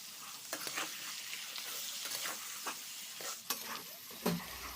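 Pork fries with onions in a hot pan, a steady sizzle broken by a few scraping, clattering strokes as the mixture is stirred up close.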